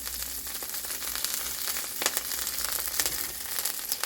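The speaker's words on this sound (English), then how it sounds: "The pan is already preheated, so that's why it's sizzling like this." Chopped kale sizzles and crackles in a preheated pan on the stovetop, with a steady, close frying hiss and brief louder pops throughout. No one speaks.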